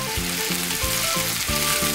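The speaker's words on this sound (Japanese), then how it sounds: "玉ねぎが透き通るまで炒めていきます。" Onions sautéing over medium-high heat in a pan for a chicken and cheese stew, giving a steady loud sizzle with rhythmic stirring scrapes about every half second, no voices.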